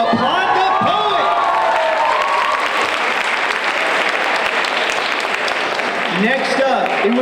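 A school audience at a ninth-grade poetry slam applauds the poet, with loud, sustained clapping and some cheering close by and a voice heard over the start and end.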